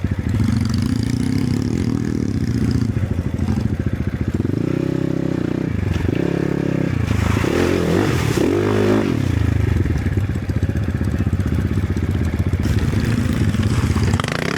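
Enduro motorcycle engine revving hard at full throttle on forest trails, a loud, continuous snarling roar with rising and falling pitch swings and some clatter, no talk over it.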